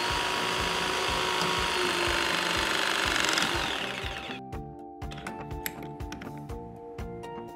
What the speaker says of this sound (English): Now press and hold to complete the crimp.